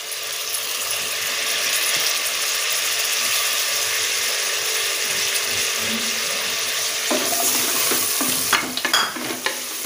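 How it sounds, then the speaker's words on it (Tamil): Egg biryani masala with curry leaves sautéing in a pan, a steady close sizzle that turns into brisk, clattering spatula stirs and scrapes toward the end. "நல்லா வதக்கி வச்சுக்கலாம்."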